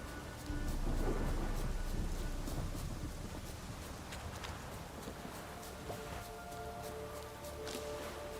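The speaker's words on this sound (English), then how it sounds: "The storm, damn it." Thunderstorm in The Witcher 3 game, a loud rolling thunder rumble over steady heavy rain and wind that continues throughout.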